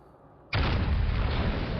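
Shells from a salvo strike an Alaska cruiser in World of Warships Legends, landing as a sudden heavy boom that swells into a sustained rumbling roar of impacts and blasts.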